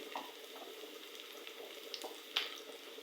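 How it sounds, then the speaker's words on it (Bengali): Garlic and onion frying in a pan for a taro leaf curry, a faint steady sizzle with occasional soft stirring taps and one sharper clink, quiet and without voices. "আমি এখানে রসুন পেঁয়াজটা সুন্দর করে ভেজে নিচ্ছি"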